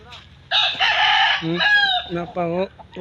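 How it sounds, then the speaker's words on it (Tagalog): A rooster crows loudly nearby on a backyard farm, one long strained call followed by shorter clucking notes. "apil ni manok sa farm ni Junard."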